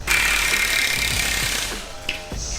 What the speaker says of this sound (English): pushing bushings out, guys. It is a pain in the butt